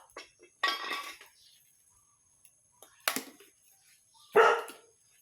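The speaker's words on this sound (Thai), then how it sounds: "ไม่รู้ว่ามีอะไรก็เห่าแล้ว" A dog barks in short bursts, three separate loud barks spaced over a few seconds, close by in a quiet home kitchen with faint clinks of dishes between them.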